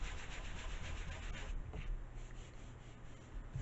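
A wooden model airplane wing with a foil-type airfoil is sanded by hand in steady, close back-and-forth rasping strokes. The scratching is loud at first, then eases slightly and continues evenly.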